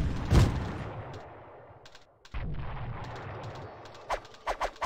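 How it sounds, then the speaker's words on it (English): Grenade launcher fired in the online game Graal Online Zone: a loud blast at the start, then a stretch of rumbling and sharp clicks, with a few short bursts near the end. "Okay, I have a grenade launcher."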